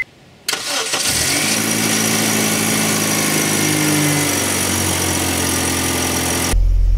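A Honda Civic fitted with a cheap eBay downpipe exhaust cranks over after a brief silence and catches. It settles into a loud, steady, droning idle heard close up with no talking.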